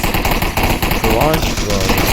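Sustained, rapid automatic gunfire crackles in Onward, an online shooter video game, with dense overlapping bursts at close range. A commentator talks over the shooting.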